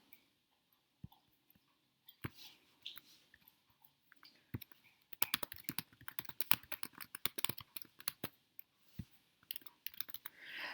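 Typing on a computer keyboard to re-enter spreadsheet data: a few scattered key presses at first, then a fast, dense burst of clicky keystrokes, close and fairly quiet, with no talk.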